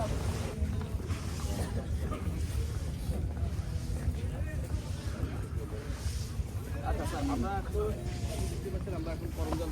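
A trawler boat moves across the water in the Sundarbans, its engine a steady low rumble under wind and water noise while people talk aboard.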